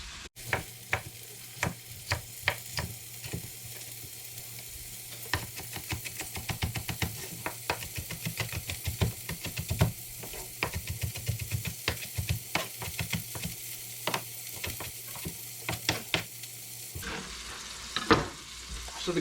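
Sausage browns in a skillet with a steady sizzle and frequent scraping, clacking stirs of a utensil against the pan, heard close up without talk.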